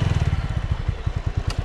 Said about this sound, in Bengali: বাইকটা ঘুরি নেই